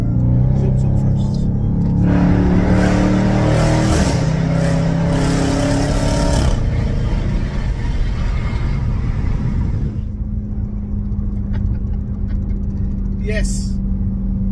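Dodge Charger SRT Hellcat Widebody accelerating hard, a loud, close engine roar with rising revs and a steady low exhaust drone, with voices and cabin noise mixed over it.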